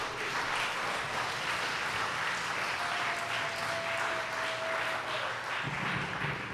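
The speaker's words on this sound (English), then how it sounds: "Please give your warmest round of applause for Rebecca Mandich." Warm audience applause at a storytelling slam in Madison, a continuous even crowd clapping without talk over it, with a faint sustained tone running through the middle.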